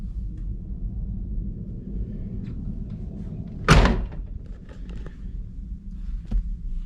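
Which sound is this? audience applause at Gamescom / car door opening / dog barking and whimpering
car door opening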